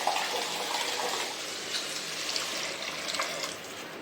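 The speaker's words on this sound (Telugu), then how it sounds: "అందుకోసం నేను వాటర్ వేసేసుకుంటున్నాను" Water is poured into a pan of chana dal curry with garlic masala, making a steady, close splashing gush that runs for about four seconds with no voices.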